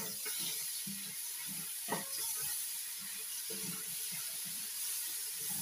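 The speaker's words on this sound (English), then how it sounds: "You make sure you stir your tomatoes in so that it can deglaze the burnt bits from the beef and the spices." Tomatoes stirred into beef and spices frying in a pot for sweet potato beef stew, a steady low sizzle with soft intermittent scraping and stirring knocks, no one talking.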